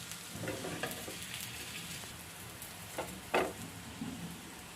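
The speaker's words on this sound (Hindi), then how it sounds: "घी लगा करके पराठे को पलट कर दूसरे साइड भी सेक ली हूँ।" Methi thepla paratha sizzling in ghee on a griddle, a soft continuous frying crackle with a couple of brief louder pops and scrapes, close and quiet, no voices.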